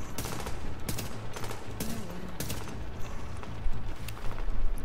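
Video game gunfire crackles in scattered bursts of sharp shots over a busy background of game noise, with heavier firing toward the end.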